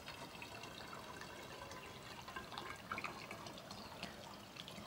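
A fermented homemade fruit drink trickles through a funnel and small filter into a bottle, a steady faint stream of liquid with light splashing, close and quiet, no voices.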